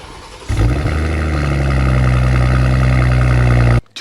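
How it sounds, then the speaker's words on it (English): A BMW X3 M40i's turbocharged inline-six fires up with a sharp starter catch and a loud rising bark, then settles into a steady, rich idle before cutting off abruptly near the end. "the X3 M40i is the one that sounds better from starting the engine"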